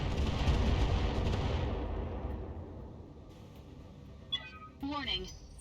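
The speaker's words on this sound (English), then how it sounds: "The turrets decided to fire." Turrets fire in the mech combat game BattleTech, a loud rumbling barrage of booming shots that fades out, followed by brief synthetic warning tones.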